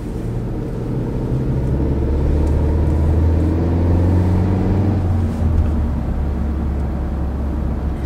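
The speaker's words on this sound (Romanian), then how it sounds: "în asta avem zgomot de rulare" A steady low rumble of Skoda tires rolling on asphalt, heard from inside the car, continuous and fairly loud, with engine hum underneath and no voices.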